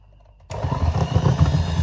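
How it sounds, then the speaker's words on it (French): Electric mixer whisking cake batter made with oil, cinnamon and sugar, starting abruptly after a brief quiet moment and then running as a steady, loud, close whirring buzz with no voices. "Et il faut toujours fouetter avec le mixeur."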